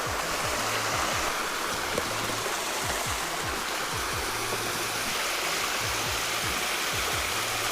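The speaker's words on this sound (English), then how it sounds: "It's got this little waterfall flowing into it" A small waterfall spills into a tiny pond, a steady, close rushing splash with no pauses and no voices.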